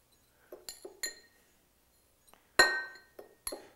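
A metal spoon taps against the outside of a cocktail glass to knock off spices while preparing a Caesar cocktail, giving several sharp glassy clinks spaced apart, the loudest near the end, in a quiet room.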